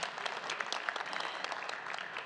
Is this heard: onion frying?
no